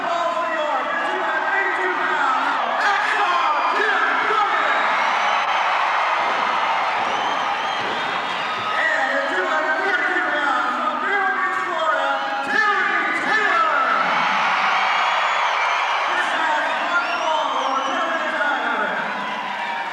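A large wrestling crowd in a Tulsa arena during a UWF tag team match, cheering and chattering in a dense, steady roar that lasts throughout with no breaks.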